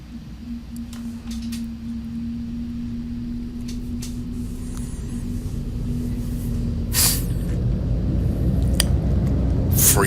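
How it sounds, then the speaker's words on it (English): Engines of an ATR 72-500 turboprop spool up in a P3D flight simulator, a steady low hum and rumble that builds in loudness midway through, with a few faint clicks and no talking over it. "Now, if you listen carefully, you should hear the motors power up."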